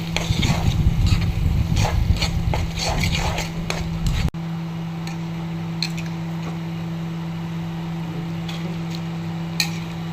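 Salted spices frying in a pan for mango dal, stirred with a quick run of rhythmic scraping and tapping strokes, then quieter sparse scrapes over a steady low hum.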